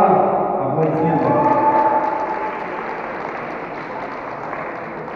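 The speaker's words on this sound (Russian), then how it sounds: "Аплодисменты." Audience applause at a sports award ceremony honoring a first-place winner: a steady wash of clapping from a crowd that slowly fades, with voices mixed in.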